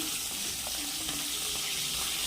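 Bhola fish fries in oil in a pan with added spices and turmeric, making a loud, steady, close sizzling hiss that runs unbroken throughout, with no talking.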